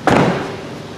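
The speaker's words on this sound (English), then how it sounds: "Now closing up the door" The door of a red 2014 Chevrolet Corvette Stingray Z51 shuts with a single solid, close thump that decays quickly into a low ring.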